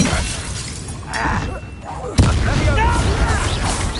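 A Confringo spell explosion in the video game Hogwarts Legacy, a sudden booming blast with shattering debris that rumbles on loudly amid combat noise, while a voice speaks in the background.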